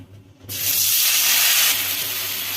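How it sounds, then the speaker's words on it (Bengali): Paneer pieces dipped in bread batter drop into hot oil and burst into a sudden, loud, close hiss of frying that stays strong and then eases slightly. "তেলটা গরম হয়ে গেছে, এর মধ্যে এবার পনিরগুলো দিয়ে দিচ্ছি।"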